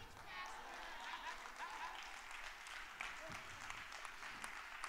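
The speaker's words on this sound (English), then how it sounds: "Y'all clapping like I'm joking." A church congregation claps during a pastor's sermon, an even wash of hand clapping with a few louder close claps, while voices murmur and speak over it.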